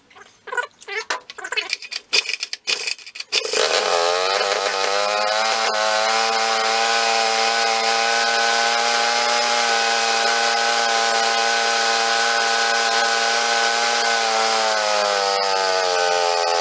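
Small engine of a Rupp mini bike running on a snowblower carburetor: a few rough sputters and pops, then it catches and holds a loud, steady high-revving buzzing drone up close, never idling down.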